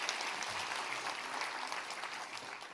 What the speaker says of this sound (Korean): 우리 솔로한 우리 어린이 한번 격려의 박수